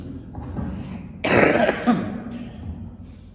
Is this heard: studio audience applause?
no